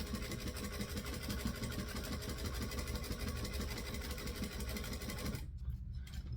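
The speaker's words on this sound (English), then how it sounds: "So we're going to stitch back through what we just stitched." A sewing machine back stitches in a fast, steady mechanical whir with rapid needle clatter, close and continuous, then stops abruptly near the end.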